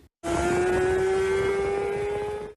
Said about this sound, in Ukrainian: Мотоцикли ревуть